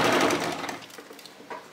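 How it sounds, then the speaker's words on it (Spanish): A sewing machine runs a topstitch along the edge of fabric for a flamenco dress ruffle, a brief, close, rapid mechanical whir that eases off near the end. "Voy a pasar el pespunte justo por el filito."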